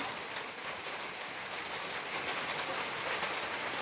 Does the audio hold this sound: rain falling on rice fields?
yes